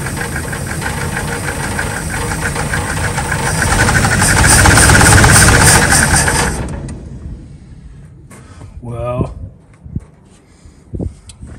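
A 1963 Chevrolet Nova coupe engine, long sitting, cranks loudly and steadily for several seconds while trying to start, then cuts off, followed by scattered clunks and a brief voice.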